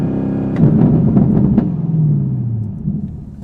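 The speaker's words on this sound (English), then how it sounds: "Let me rev it up" A Chevrolet Camaro ZL1 engine rumbles and revs in bursts against a 4,000 RPM launch-control limit, a deep throaty roar rising and falling close by, with no talking.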